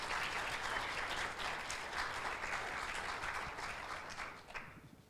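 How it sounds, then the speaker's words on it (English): Audience applause for a Tyrendarra Sporting Club representative at a Shark Pitch event, a dense, even wash of clapping from a crowd that fades slightly toward the end. "So let's give a big round of applause to Tyrendarra Sporting Club representative"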